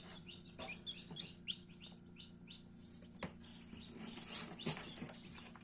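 Livny breed chicks peep and cheep in a steady high chorus, with soft clucking and a brief flutter of wings close by, no talk over them.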